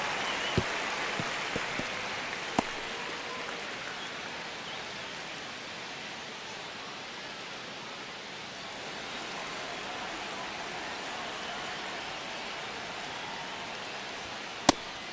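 Simulated stadium crowd in the MLB The Show 25 baseball video game, a steady broad murmur running throughout with a few sharp clicks near the start and end, no talking.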